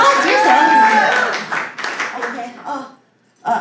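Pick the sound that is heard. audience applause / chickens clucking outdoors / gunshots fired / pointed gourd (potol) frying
audience applause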